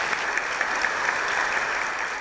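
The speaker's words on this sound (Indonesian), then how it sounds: "Silakan naik, kita berikan aplaus untuk Bunga." A studio audience on a TV talk show claps in a dense, steady round of applause that fills the whole stretch at even loudness.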